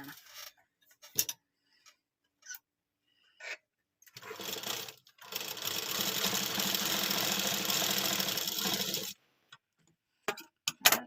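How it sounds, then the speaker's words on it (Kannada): Up close, a sewing machine runs a steady stitching whir along a fold of fabric for about five seconds, with scattered clicks and handling taps before and after. "ಫೋಲ್ಡ್ ಮಾಡಿ ಒಂದು ಸ್ಟಿಚ್ ಬಿಡೋಣ"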